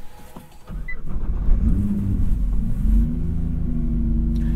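A 2021 Nissan GT-R engine fires up with a deep rumble, then rises through a couple of swelling revs before settling into a steady, loud idle, close by with no talking.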